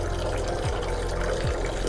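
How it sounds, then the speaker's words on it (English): Tap water runs in a steady, close rush while hands are rinsed from fingertips to elbow in a hospital handwashing routine, with a couple of brief gurgling splashes. "we want to rinse our hand from the tip to the elbow"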